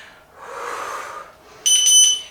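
An electronic workout timer in a no-equipment lower body workout gives one loud, high, sustained beep near the end, after a stretch of soft background noise, with no talking.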